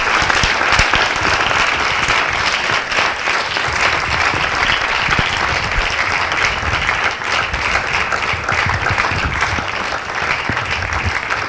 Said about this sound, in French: je vous prie d'applaudir pour cette femme exceptionnelle